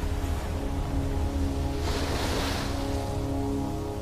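Ocean waves along the Fiji coast, a steady broadband wash of surf that swells into a brighter crash near the middle, with wind noise and a low rumble throughout, no voices.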